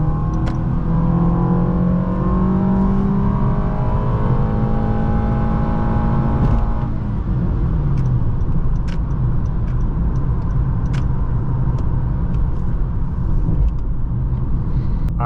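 A 2016 Honda Accord Sport 2.4 cruises on the highway, its engine whining as it accelerates and then settling into a steady road and tire rumble from inside the cabin.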